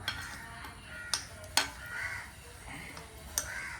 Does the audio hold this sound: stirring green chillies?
yes